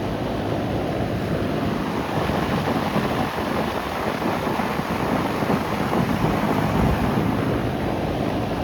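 A 2002 Goodman CKL air conditioner condenser unit runs outdoors with a steady, loud, broadband fan roar that never changes, heard up close and without voices.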